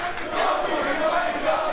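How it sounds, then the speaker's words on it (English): A wrestling crowd at a live show in Brisbane shouts and jeers in a steady, dense roar, with many voices blending into loud, continuous noise and no single voice standing out. "the crowd has already devolved into some name calling here"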